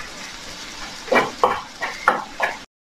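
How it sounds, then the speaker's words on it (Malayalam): Grated coconut roasting in a pan for Kerala kadala curry, stirred with a spatula that scrapes the metal in about five short, evenly spaced strokes over a low background hiss, with no talking. "ഇതൊന്ന് നമുക്കൊന്ന് വറുത്തെടുക്കാം"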